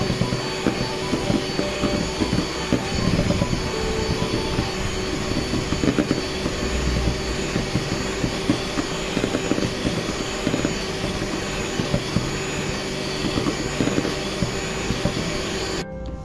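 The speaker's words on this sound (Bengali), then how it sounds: "বিট করে নেব। প্রথমে কিছুক্ষণ মিডিয়াম স্পিডে থাকবে, এরপরে আমি হাইতে করে দিব।" An electric hand beater whips cream for mango ice cream, a loud, steady, close motor whine and whir running unbroken for about sixteen seconds before cutting off, with no talking.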